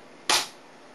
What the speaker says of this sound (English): Then you turn the charging off, you aim, and you fire.